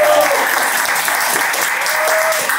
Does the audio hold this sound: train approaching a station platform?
no